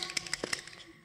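Castanets in a 1970s children's party song: a quick run of sharp wooden clicks, about half a dozen in one second, crisp and close, with nobody talking.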